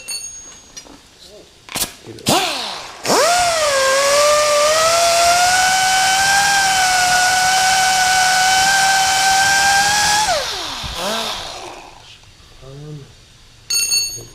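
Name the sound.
deburring metal around a hole on a 1991 Honda CRX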